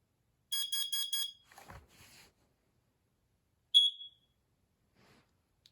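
Kidde 30CUAR-V smoke and carbon monoxide alarm goes off with four rapid, loud, shrill beeps, followed by a short rustle, a pause and then one sharp chirp in an otherwise quiet room.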